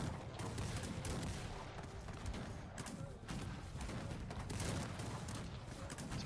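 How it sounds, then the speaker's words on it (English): Battle sounds from the strategy game Cossacks 3: a dense, continuous barrage of musket fire and artillery booms, steady and loud throughout with no clear gaps. "Get some artillery in here. That's how you do it."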